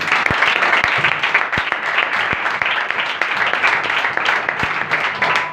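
Loud applause from a church congregation, many hands clapping in a dense, steady wash, with a few sharp, close claps popping out above the crowd throughout.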